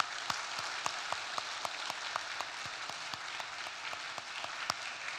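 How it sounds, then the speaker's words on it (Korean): A church congregation applauds in encouragement during a Sunday service, a soft, steady patter of many hands with a few sharper individual claps standing out, fairly distant and even. "격려의 박수 보내시면 고맙겠습니다"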